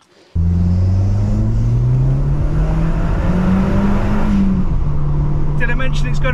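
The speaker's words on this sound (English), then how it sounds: "Did I mention it's got a nice exhaust?" An Audi TT with a full exhaust system and sports cat revs hard after a brief quiet start, its loud, steady engine note rising and falling through several seconds of revving.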